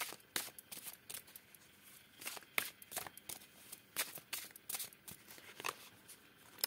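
Tarot cards being cut and handled by hand, with a run of crisp papery riffles and flicks at an uneven rhythm, close and fairly quiet, with no voices.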